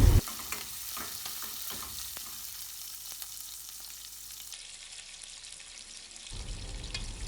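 Chopped onion sautés in a pan for a bitter gourd stir-fry, making a continuous frying sizzle with stirring scrapes and a few spatula taps, fairly close and with no speech.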